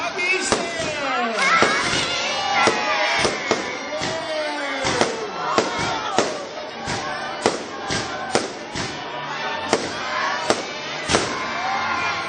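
Fireworks at an Easter celebration, a rapid series of loud, sharp bangs and crackling bursts with whistling trails, spaced irregularly across the whole stretch with a crowd murmuring beneath.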